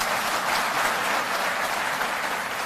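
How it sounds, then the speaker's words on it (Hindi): An audience at a Delhi government ceremony claps in a thick, even wash of applause that holds steady and fairly loud for the whole stretch, with no talk over it. "तालियां बजती रहें।"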